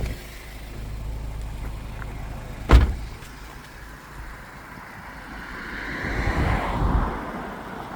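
A Toyota MR2 engine idles smoothly and quietly after a radiator and coolant repair, with a sharp clunk like a door or bonnet shutting and a brief swell of revving or mechanical whirring later.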